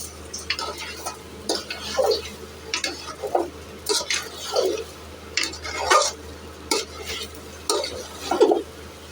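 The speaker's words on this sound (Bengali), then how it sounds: "প্রথমে চালটা দিয়ে আমি ভালো করে মিশিয়ে নিয়েছি।" Rice being stirred with katla fish head in a pan for muri ghonto, a rhythmic run of scraping, shuffling strokes roughly every second, close and moderately loud with no talking.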